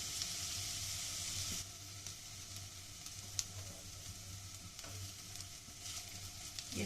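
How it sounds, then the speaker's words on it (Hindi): Onions for green chilli curry softening in a pan, a soft, faint sizzle with a few light stirring taps, quiet and steady with no talk. "प्याज हमें सुर्ख नहीं करना है, सिर्फ थोड़ा सा इनका कलर चेंज होने तक इनको पकाना है।"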